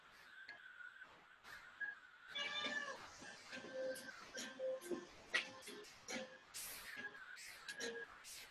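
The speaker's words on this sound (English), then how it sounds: "My cat is whining at me today." A house cat whines with a string of drawn-out, plaintive meows that rise and fall over several seconds, fairly close and moderately loud in an indoor room, with faint speech at times.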